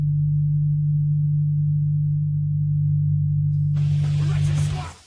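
Low-frequency band of a Lamborghini V10 engine sound, a steady deep droning hum held loud and unbroken for several seconds, then broadband hiss joins briefly before it cuts off.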